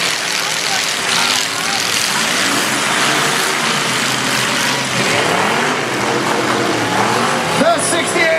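A battered demolition derby car's engine is fired back up in the arena at a county fair destruction derby, a rough revving drone mixed with crowd noise and an announcer talking over it.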